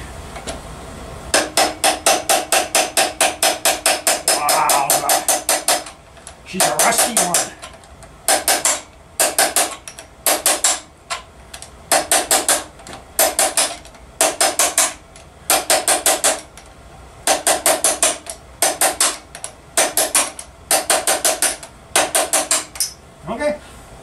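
Hammer strikes on an old seized starter bolt of a 1964 Evinrude 40 hp outboard, first a fast continuous rattle of taps, then steady bursts of rapid metallic blows, close and loud.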